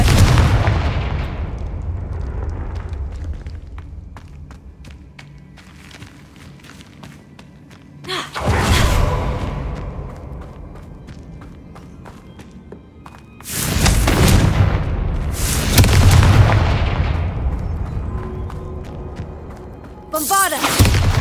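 Confringo spell blasts in the Hogwarts Legacy video game, several loud booming impacts spaced across the stretch with rumbling game ambience between them and a voice calling out spells.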